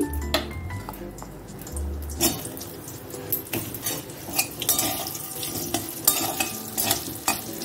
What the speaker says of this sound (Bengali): এবার আমি আলুটা ভাজবো। এই আলুটা ছেড়ে দিচ্ছি।